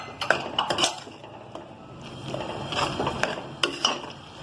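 A metal spoon scrapes and clinks against a cooking pot while stirring masala with tomatoes, garam masala and whole green chillies for dal, giving irregular close-up clanks and scrapes.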